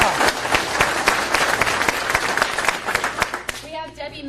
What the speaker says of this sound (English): So I'd like to give a round of applause to Sam.